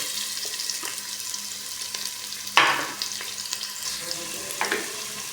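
Ginger, onion and garlic sautéing in hot oil in a pan for octopus adobo, a steady sizzle with occasional louder bursts and scraping stirs, close and continuous with no talking.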